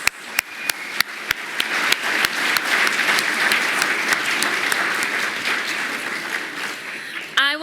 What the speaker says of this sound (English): Let's have one more round of applause for the 2020 and 2021 Alumni Award recipients.